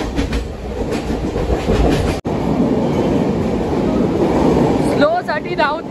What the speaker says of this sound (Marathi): ट्रेन बऱ्यापैकी खाली झाली आता.